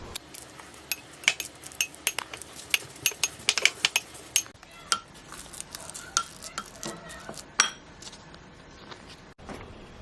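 A utensil mashes avocado mixed with a squeeze of lemon juice in a bowl, making irregular soft squelches and sharp clinks against the bowl, busier at first and then sparser, with no talking.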